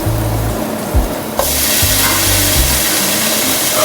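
Chicken pieces fry in butter in a pan. The soft sizzle swells into a loud, steady hiss partway through, with a few light clanks of cookware early on.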